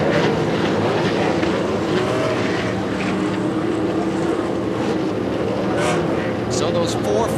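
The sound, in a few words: race car engines starting at Daytona 24 hours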